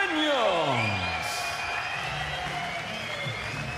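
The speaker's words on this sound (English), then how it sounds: "So Ray Daniels takes the applause of the crowd" A boxing crowd cheers and applauds after a first-round knockout win, a loud burst of whoops and clapping that swells at the start and then settles into a sustained, slightly fading roar.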